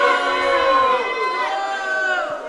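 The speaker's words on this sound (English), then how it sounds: "This crowd is letting Silva hear it." A wrestling arena crowd jeers loudly and continuously, a dense wall of voices with sustained chant-like tones and no break in the roar.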